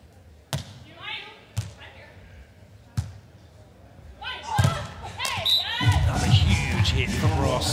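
A beach volleyball spike in a women's semifinal, Czech Republic against USA, at The Hague: sharp hand-on-ball slaps and thuds ring out several times while a commentator talks and the crowd swells toward the end.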